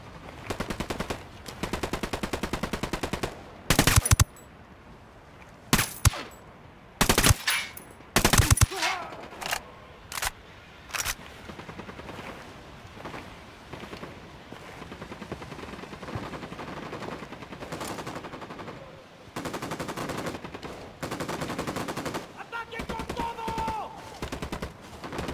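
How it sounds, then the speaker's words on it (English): Machine gun fire in the video game Ghost Recon: Wildlands, loud repeated bursts of automatic gunfire separated by short pauses, with scattered single shots and game ambience between them and faint voices in places. "Opening fire."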